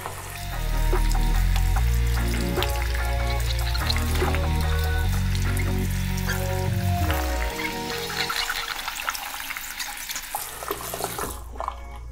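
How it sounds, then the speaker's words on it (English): Tap water runs steadily into a sink to rinse a new scuba mask, a loud continuous splash lasting most of the clip before easing to a thinner trickle near the end. "I'm gonna turn the water on and then rinse it off."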